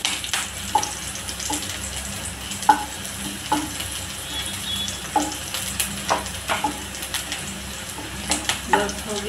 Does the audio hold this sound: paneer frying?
yes